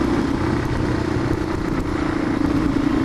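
Motorcycles ridden on Phantom Canyon road, a steady loud engine drone with wind roar, continuous and close throughout with no break.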